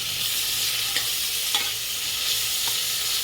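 Onion and tomato sautéing in hot oil for a goat head gravy, a steady close sizzle with a few soft spoon scrapes as the pan is stirred.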